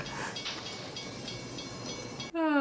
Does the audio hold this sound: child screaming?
no